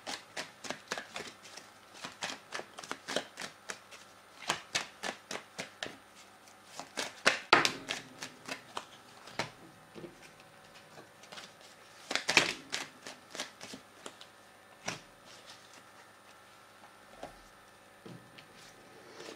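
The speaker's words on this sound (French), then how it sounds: "Je vais prendre une carte de mon oracle pour chacun." Oracle cards being shuffled by hand, a close run of crisp flicks and papery riffles in uneven bursts, with a few sharper slaps along the way and no talking.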